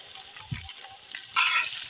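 Fish frying in oil with a little cumin gives a soft continuous sizzle with a few light clatters, then a louder burst of hissing near the end.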